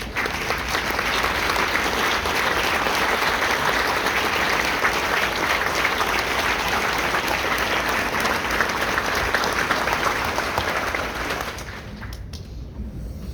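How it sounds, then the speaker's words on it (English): A dinner crowd honoring Honor Flight volunteers breaks into loud, sustained applause, dense clapping that holds steady for about eleven seconds before fading out. "let's give them a huge round of applause"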